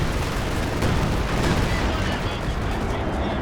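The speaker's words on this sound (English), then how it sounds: "Got time on target out the back." A time-on-target artillery barrage in Company of Heroes 2: dense, loud overlapping booms and blasts rolling together as a continuous rumbling bombardment, with a few sharper impacts standing out.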